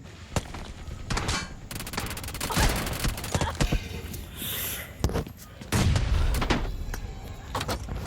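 Gunfire in the video game Battlegrounds India: dense, close shots and rapid bursts crack through a busy mix of game noise, loud and nearly continuous.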